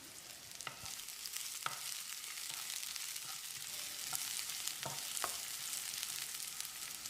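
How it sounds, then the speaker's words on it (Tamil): Chopped garlic and dried red chillies stir-fry in hot oil for a restaurant-style chicken dish, a steady quiet sizzle broken by a few sharp clicks and scrapes of a spatula against the pan. "2 டேபிள் ஸ்பூன் பொடியாக நறுக்கின பூண்டு, 2 வரமிளகாயை கிள்ளி போட்டு ஒரு 15 செகண்ட் பிரட்டி விட்டுடலாம்."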